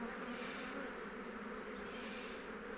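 Honeybee swarm buzzing at an apiary, a steady dense hum of many bees close by, continuous and even with no voices.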